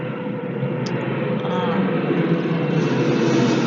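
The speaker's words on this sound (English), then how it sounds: "Got lots of planes coming over." Airplanes passing overhead make a broad, continuous engine roar that holds steady and loud throughout, with a person's voice faintly present beneath it.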